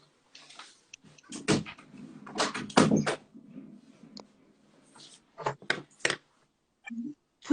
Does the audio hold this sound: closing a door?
yes